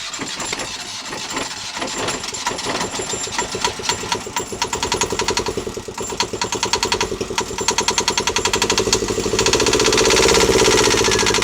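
A boat engine on a wrecked Prout catamaran, with water in it, cranks with rapid mechanical chugging, sputters, then catches and settles into a steady, loud running drone near the end.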